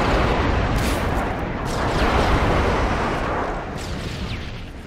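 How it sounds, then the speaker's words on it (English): A predator missile blast in Call of Duty: Modern Warfare 3, a loud, dense roar of explosive rumble and crackling debris rolling on for several seconds and slowly fading, close and heavy, with no talk over it. "Friendly predator missile"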